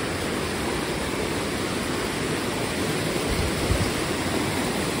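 Waterfall and clear flowing stream near the Ghatghar hydro power station at Chondhe, a dense, even roar of rushing water close by, steady throughout with no voices.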